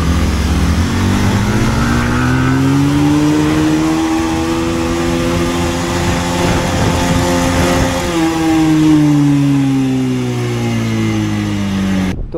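Yamaha R15 V4 and Bajaj Pulsar 220F BS3 motorcycles in a drag race, engines revving loud and close, pitch climbing and dropping through gear changes in a continuous roar with no talking.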